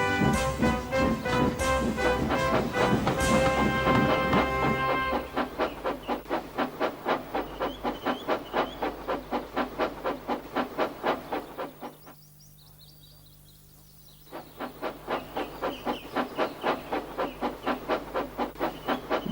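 Steam engines Gordon and Percy pull out of a station with steady rhythmic chuffing and hissing, a brief whistle-like tone early on and a short quiet gap before the puffing resumes.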